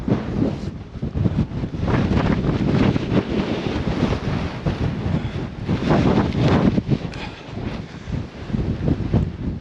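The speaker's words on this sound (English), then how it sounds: "wind's still here" Strong wind on a snowy Cairngorms mountainside buffets the microphone in loud, gusting roars that rise and fall continuously, with no voices heard.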